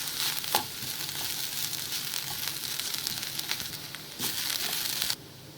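Green chillies and ginger garlic paste sauté in a pan with onion for egg curry, giving a steady close sizzle with occasional scraping stirs and a brief louder spatter near the end.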